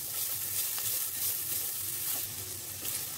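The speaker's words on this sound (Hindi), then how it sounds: "इनको थोड़ा सौते करेंगे पहले हम।" Garlic and ginger sauté in a tablespoon of hot oil for veg spring roll stuffing, giving a steady, close sizzling hiss with faint stirring and no voices.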